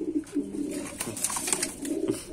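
A pigeon coos up close in repeated low, throaty rolls, steady across the moment with no talking.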